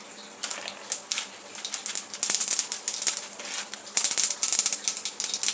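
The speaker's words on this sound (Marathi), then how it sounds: "राई जरा तडतडली" Mustard seeds crackling in hot oil in a kadhai over a gas flame, a dense, steady stream of sharp little pops and spits that runs throughout, close and fairly loud.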